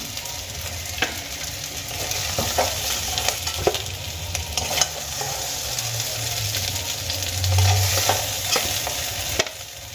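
Eggplant pieces fry in hot oil in a wok, giving a dense, continuous sizzle up close with repeated spoon scrapes and clicks against the metal over ten seconds, with a low rumble swelling near the end and no voices.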